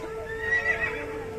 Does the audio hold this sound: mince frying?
no